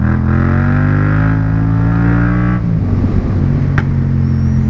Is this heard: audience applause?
no